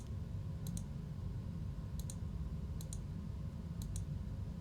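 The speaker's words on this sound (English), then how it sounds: "You can hear me clicking." Computer mouse clicks come in four quick double-click pairs, evenly spaced and fairly faint, over a steady low background hum with no talking.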